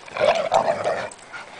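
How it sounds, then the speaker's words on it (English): A dog growls close by in a short, rumbling, playful burst lasting about a second, dipping briefly before trailing off. "What a big vicious growl."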